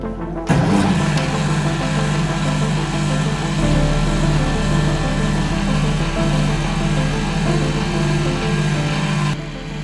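Liberty Engine 1.0 generator machine starts with a sudden thump, then runs with a loud, steady mechanical hum and whir, alone and close up, until it cuts off near the end.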